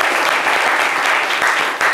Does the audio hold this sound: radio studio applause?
yes